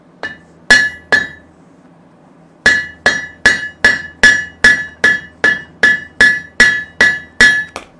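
An old hammer strikes metal in a medieval-style blacksmith forge, sharp ringing blows: two early strikes, a pause, then a steady run of about twelve evenly spaced, loud, close clanging hits.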